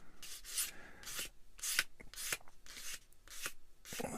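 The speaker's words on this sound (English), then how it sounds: "Little sand." A small plastic model kit part is sanded by hand in short, quiet, repeated rubbing strokes, close up and soft, about eight passes.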